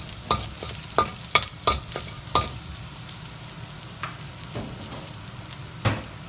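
Butter sizzles in a pan for sautéing clams in garlic butter sauce, while a utensil taps and scrapes repeatedly and in quick succession at first, then more sparsely, close and loud, with a steady frying hiss underneath.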